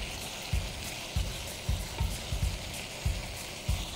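Carrots and other vegetables fry in a pan beside a chicken, cheese and cabbage dish, a soft steady sizzle broken by regular low knocks of a utensil against the pan about every half second.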